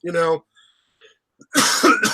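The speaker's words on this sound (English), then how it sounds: "I should have my finger on the mute button so I do not cough" A single harsh cough bursts out near the microphone, followed by short quiet stirrings and then a louder rough clearing of the throat.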